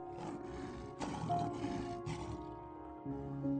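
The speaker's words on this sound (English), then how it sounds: "you hear Simba's Lion King roar" Lion roar in the style of Simba from The Lion King: a deep, rumbling roar that rises and falls in repeated surges over a sustained low tone, loud and close.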